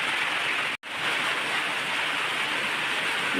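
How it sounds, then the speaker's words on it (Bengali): Steady rain hisses down in a dense, even wash, broken by a single brief dropout before resuming unchanged. "বৃষ্টির আওয়াজ শুনতে ভালো লাগে"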